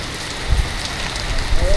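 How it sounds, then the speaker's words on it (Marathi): Rain pattering steadily on a surface at a railway station as the rain begins, a constant hiss with a few louder thuds and spatters close by. "अरे पाऊस आला"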